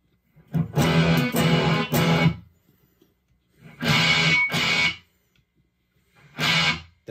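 Electric guitar played through an MXR Custom Badass '78 Distortion pedal, tone set bright: three loud bursts of distorted chords, the first long and the others shorter, separated by near-silent pauses.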